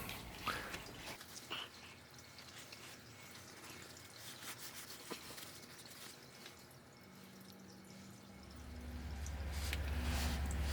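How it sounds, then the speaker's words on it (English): CVT transmission fluid drains from a 2015 Honda Fit into a pan, a faint steady trickle and splash with occasional drips, growing fuller and louder toward the end as the flow picks up. "it'll flow faster if you open up the level port. Let some air in while the fluid's going out."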